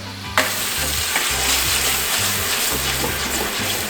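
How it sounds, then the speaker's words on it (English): Taco meat sizzles loudly in a hot pan just as chicken stock is poured in, giving a sudden burst of steady frying hiss that continues close up, with no talking. "Now we're gonna hit a little bit of chicken stock or water just to bring that sauce together."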